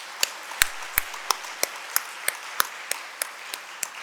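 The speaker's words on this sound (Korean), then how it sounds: "여러분 크게 박수해 주시기 바랍니다" Scattered clapping from a Sunday church congregation welcoming newly installed elders: about a dozen distinct claps at a sparse, steady pace, fairly distant and quiet, with no talk.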